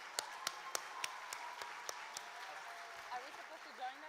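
Conference audience applause at a plenary session, a sparse, faint run of about a dozen separate hand claps at an uneven pace, fading into quiet room noise and a soft voice near the end.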